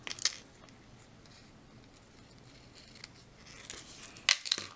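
Scissors snip through ribbon in a papercraft card project, with one crisp cut at the start, quiet handling in between, and a sharper double snip near the end, close and alone.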